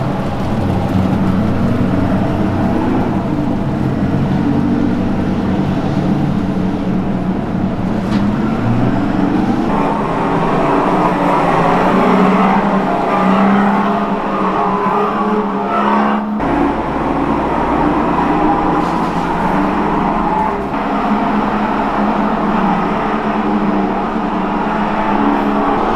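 Electric go-karts race nearby on a cruise ship track with a continuous whirring motor hum and rumbling rolling noise that rises and shifts as they move, loud and unbroken throughout.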